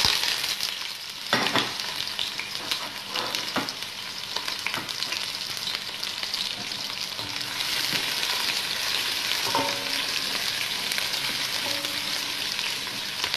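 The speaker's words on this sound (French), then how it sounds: "je vais faire revenir mes oignons dans de l'huile" Onions sizzle steadily in hot oil for a bolognese-style minced meat sauce, a continuous close hiss broken by a few sharp clicks and stirring scrapes, with no voices.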